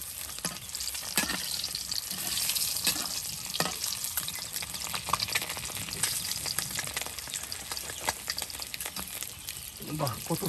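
Eggs fry in a pan during home cooking of a goat meat curry, a close continuous sizzle with crackles and occasional stirring clatter, and voices speak faintly underneath.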